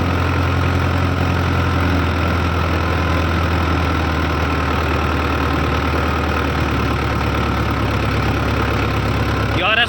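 A 60 HP tractor engine drives an 8-foot rotavator, a loud, close, continuous diesel drone with a rough knocking texture that stays steady under load for the whole stretch, with no voices heard.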